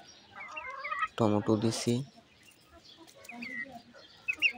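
Desi hens approach chopped tomatoes set out for them, soft clucks and low calls scattered quietly before and after a short burst of someone speaking.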